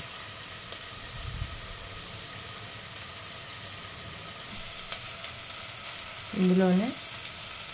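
Potatoes sizzle and crackle steadily in a hot pan for an Indian curry, a continuous frying hiss with faint stirring, while a voice briefly speaks near the end.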